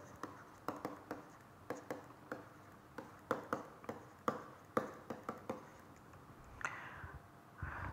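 An equation is written out during a mathematics lecture, producing a quiet series of crisp taps and scratches in an uneven rhythm, with no talking.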